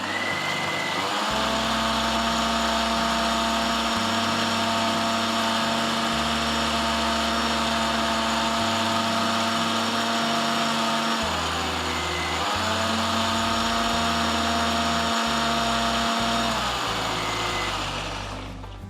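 Electric mixer grinder blending onion and tomato masala for an egg curry, whirring loudly and continuously with pitch shifts as it runs in pulses, up close and without any speech.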